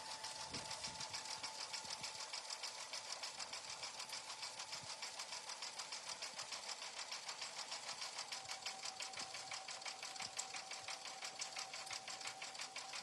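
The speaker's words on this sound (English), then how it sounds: "I like to stitch around 400 stitches per minute" A sewing machine running at about 400 stitches per minute while stitching freestanding embroidery designs, with its speed slowed down, gives a steady, fast rhythmic whirring and clatter that holds constant and close for the whole stretch, with no voices.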